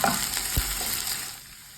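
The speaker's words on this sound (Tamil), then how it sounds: "இப்போ வெண்டைக்காய் போட்டுடலாம்." Sliced okra sizzles in hot oil with mustard seeds and urad dal in a pan for a Tamil-style poriyal, with a soft crackle fading as a spatula scrapes and stirs close by.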